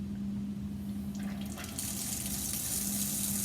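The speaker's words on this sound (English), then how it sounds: "the water just gets pulled right through" Water drawn through filter paper by vacuum suction filtration in a chemistry lab, heard as a steady hiss and gurgle that suddenly grows louder and brighter partway through, over a constant low pump hum.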